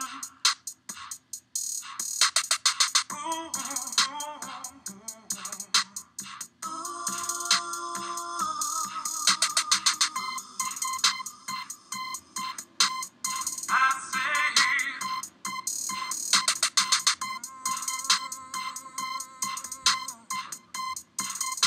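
A busy electronic drum beat recorded in Logic Pro X plays continuously, with dense, sharp percussive hits and tonal synth layers throughout, fairly steady in level with no pauses.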